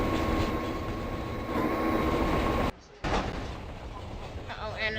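A train rumbling past in a video game, a steady loud roar of rail noise with a brief sharp dropout near the middle, then the rushing resumes.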